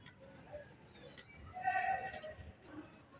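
Loft pigeons cooing softly with brief chirps, moderately close, over a quiet background.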